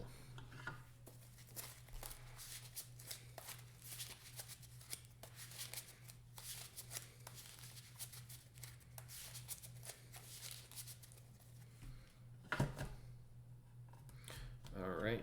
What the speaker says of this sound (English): Alright, villain deck is shuffled as well.